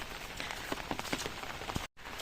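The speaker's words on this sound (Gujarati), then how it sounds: "અહીં આવતાની સાથે વરસાદ સ્ટાર્ટ થઈ ગયો છે" Rain patters steadily at a mango graft nursery, a dense wash of drops striking surfaces with scattered sharper taps, fairly close and moderately loud, broken by a short dropout near the end.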